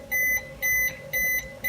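Three bursts of electronic beeping from a toy dinosaur microwave signal that the food is ready. The beeps are evenly spaced, clear and close, and no one speaks.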